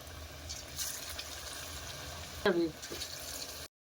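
Cabbage and onion fritters (piyaji) fry in hot oil with a soft, steady sizzle and bubbling, interrupted midway by a brief louder clatter, all fairly quiet.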